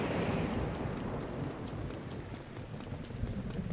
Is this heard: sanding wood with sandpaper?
no